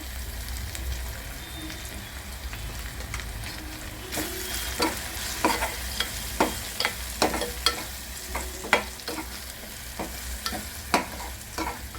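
Red masala with garlic and chilies roasting in a pan for methi rasa bhaji, a continuous low sizzle punctuated by repeated sharp spatula scrapes and taps against the pan at an irregular rhythm.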